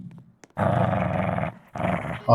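A dog character growls in the Roblox video game, with two sustained loud growls separated by a short pause and a brief sound at the very end.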